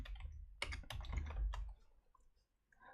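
Typing on a computer keyboard into a browser search box: a quick run of soft, close key clicks for about a second and a half, then a few scattered taps, heard quietly with no talking.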